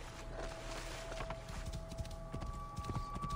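A horse's hooves clip-clop in a quick, steady rhythm in the video game Assassin's Creed Origins, fairly quiet under a constant background hum, with no speech.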